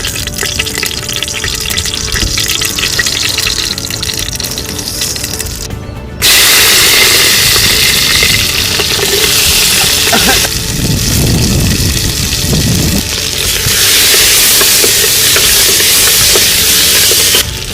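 Liquid boiling in a clay pot on the stove gives a steady, close hiss and bubbling wash that grows louder and fuller partway through, with no talking.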